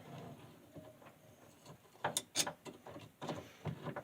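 A cheap coon trap's metal mechanism worked by hand to try to close its J-hooks, making scattered clicks and ratcheting metallic snaps, close but quiet, with a few sharper clacks midway.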